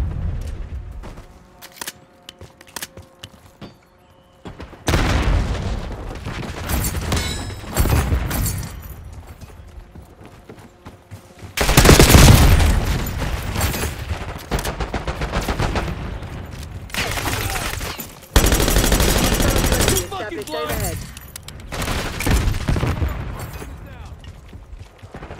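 Bursts of gunfire in the video game Call of Duty come in loud clustered volleys, with quieter gaps between them and occasional voices.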